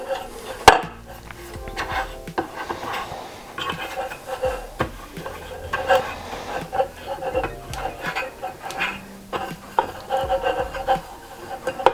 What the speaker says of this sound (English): So I just take about a teaspoon of the coconut oil and butter the tray.